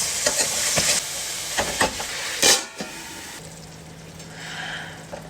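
Masala paste is stirred into chicken curry frying in a pan, with spoon scrapes and a steady sizzle up close, a louder hiss midway, and then a quieter, even frying sound.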